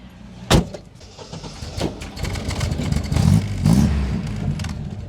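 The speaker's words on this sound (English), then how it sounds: "Best exhaust ever." An old MGB sports car at Castle Combe track day, its exhaust giving a short sharp blip and then rising revving bursts, close and fairly loud, with a door-like thump early on.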